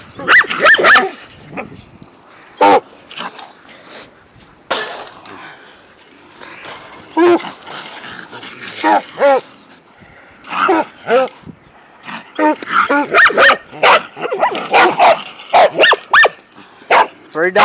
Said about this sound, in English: Three dogs on a coon.